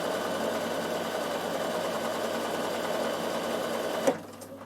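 A Bernina sewing machine runs steadily while sewing garment seams, a continuous close mechanical whir that stops abruptly near the end with a small clunk.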